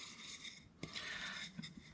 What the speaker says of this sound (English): I'm going to show you sanding this other one